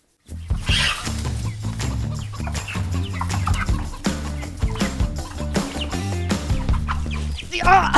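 Chickens cluck and squawk loudly and continuously at close range as someone scrambles to catch one on a Vietnam food tour in Tan Trieu, with agitated flapping bursts and no talking.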